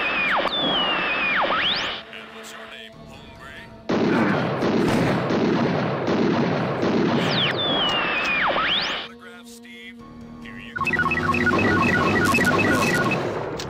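Gunfire from a weapon in the PC game Harvester blasting repeatedly at the floor, loud dense bursts of shots and booms with brief quieter gaps between volleys, layered over game sound effects.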